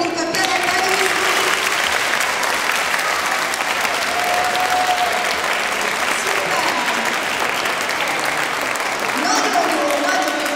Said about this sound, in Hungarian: próbáljuk már ki egy nagy-nagy tapsot